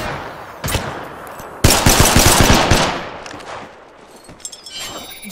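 Incoming gunfire hits the player in Apex Legends: a short burst, then a loud rapid machine-gun volley that tapers into scattered shots over a background rumble.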